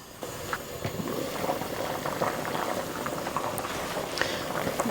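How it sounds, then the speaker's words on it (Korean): Radish and beef soup simmers in a covered pot, giving a steady, quiet bubbling with scattered small pops and no voices. "뚜껑을 덮어서 한 스푼 더 끓일게요."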